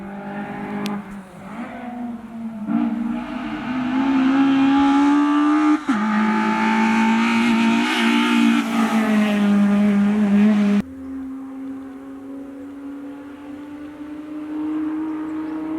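A white car drives along a hill road, its engine rising in a loud, sustained roar as it passes close by and then settling into a quieter steady hum.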